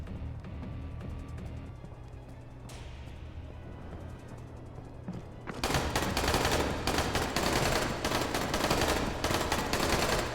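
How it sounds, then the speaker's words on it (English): Gunfire in the zombie game Dying Light: distant muffled shots at first, then a sudden loud stretch of rapid, continuous automatic fire from about halfway through to the end, with no talk. "Who are you shooting at?"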